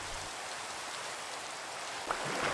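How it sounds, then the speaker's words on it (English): Steady rain falls in the video game Minecraft, a dense, even hiss that continues throughout with no talk. "I love fishing in the rain"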